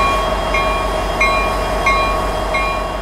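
CSX overnight freight train M442 out of Tampa, bound for Waycross, rolls past as a steady, loud rumble of rail cars, with a faint repeating metallic squeal or click about every two-thirds of a second.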